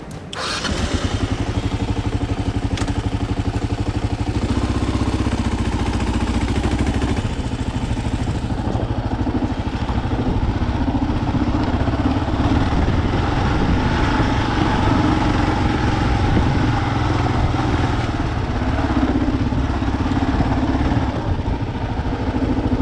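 A Kawasaki KLR650 motorcycle fitted with 2-inch ROX risers rides off-road trails, its single-cylinder engine loud and close, revving and labouring continuously with rattling clatter over rough rocky ground.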